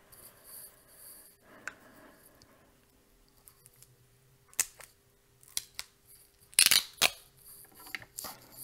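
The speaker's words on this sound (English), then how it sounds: "Scissors." Several short, sharp snips and clicks of scissors cutting, scattered irregularly over a quiet background, close by.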